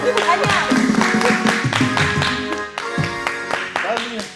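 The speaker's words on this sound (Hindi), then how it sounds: "तालियां।" A studio audience at a comedy entertainment show claps in a loud, dense burst, with music or tonal sounds playing beneath and a voice over part of it.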